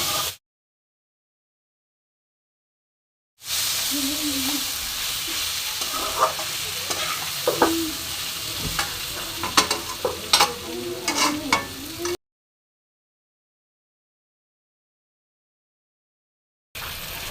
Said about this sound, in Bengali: এবার কষা মশলার সাথে সবজিগুলোকেও আমি একটু কষবো।